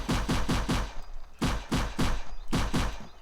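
Pistol fire in an Unreal Engine 4 battle royale game: sharp, punchy shots in quick bursts, four rapid ones, then a pause, then another run of about five, loud and dry with no talk.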